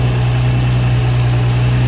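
Nissan 350Z engine idling after a swap with a used 85k-mile motor, a steady low rumbling hum with even vibration, close and loud, no talking.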